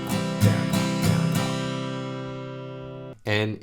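An acoustic guitar strums the chords of a song. A few quick strokes settle into one ringing chord that slowly fades, then a fresh strum cuts in at the end.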